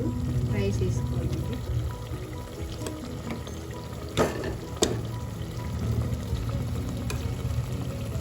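Rice tipped into a hot pot of frying onions and ghee for potato biryani, a steady sizzle with soft pouring and stirring scrapes and a couple of sharp clinks.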